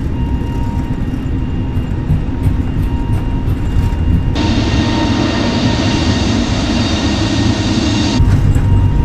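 Airliner jet engines spooling up to takeoff thrust on the runway in Microsoft Flight Simulator 2020, a loud continuous rumble and whine that jumps louder midway and surges again near the end.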